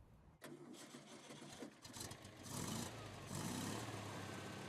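A Porsche 356 1.5-liter engine in a Rometsch Beeskow cranks and fires, then settles into a rough, throbbing idle that builds in loudness with a couple of revs, heard alone and fairly close.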